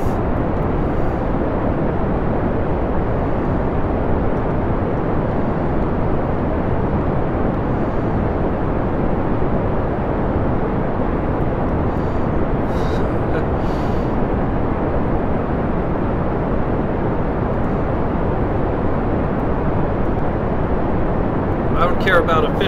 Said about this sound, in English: Go ahead, throttle up, and lift off